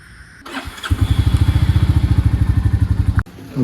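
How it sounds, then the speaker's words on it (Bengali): A motorcycle engine idles close by with a steady, rapid chugging rhythm, then cuts off abruptly near the end. "আমার বাইকটা ওইখানে শিফট করতে হবে।"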